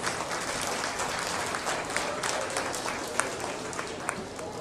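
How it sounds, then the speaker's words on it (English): Audience applause at a 2024 PCLA beef showmanship event, steady dense clapping throughout with a few sharper claps standing out, fairly close and even in level. "let's give a round of applause to our final class of intermediate"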